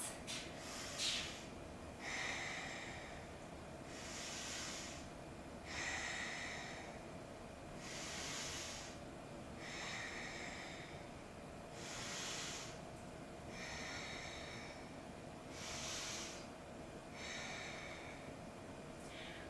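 Slow, deep breathing through a seated yoga pose with elbows pressing into the knees, in a vinyasa practice for tight hips: about seven soft, breathy inhale-exhale cycles at an even pace, close and quiet, with no talking.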